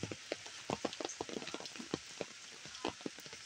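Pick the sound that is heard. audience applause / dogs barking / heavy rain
heavy rain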